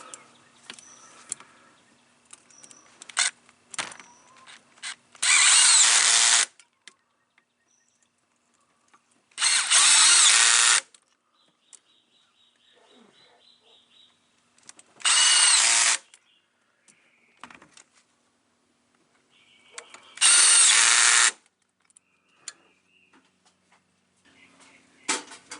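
Impact gun tightening valve cover bolts on a 2001 Silverado 5.3L engine, four loud, separate bursts of about a second each, with quiet clinks and handling noise between them.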